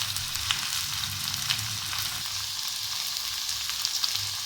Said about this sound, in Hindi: तकरीबन 5 मिनट से हम इसको फ्राई कर रहे हैं